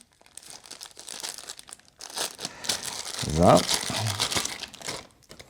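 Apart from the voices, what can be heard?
plastic bag being removed, crinkling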